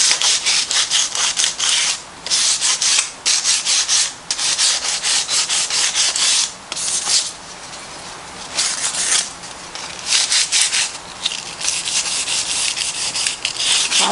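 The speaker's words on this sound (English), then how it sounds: "so we're just going to sand this down a little bit" Sandpaper rubs a Dollar Tree wooden block with a coating on it, giving loud, close, steady scratchy strokes that run in long stretches with brief pauses.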